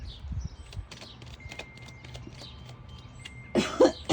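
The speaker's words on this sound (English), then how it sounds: "I keep like feeling like I need to clear my throat." One short throat clearing sounds near the end, a brief rough burst standing out from a quiet background with scattered faint clicks.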